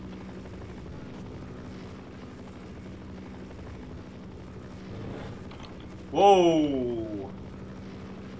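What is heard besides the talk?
helicopter flying in Half-Life video game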